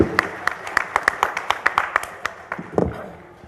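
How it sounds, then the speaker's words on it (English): Applause from a conference audience at a national news conclave: a scattering of sharp, uneven hand claps at moderate distance, tapering off toward the end, with a voice speaking over the clapping. "Let's have a round of applause for the last session."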